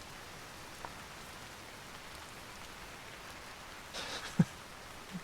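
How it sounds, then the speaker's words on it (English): Steady, soft rain falls in the video game Vintage Story, a faint even hiss with a few light drop taps and one sharper knock near the end, no talk. "I wish it wasn't raining."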